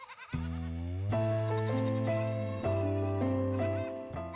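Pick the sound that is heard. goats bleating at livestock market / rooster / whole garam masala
goats bleating at livestock market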